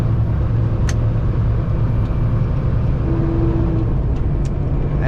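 Car driving along a scenic detour road with air conditioning running, a steady close low rumble of engine and tire noise with a few faint brief hisses.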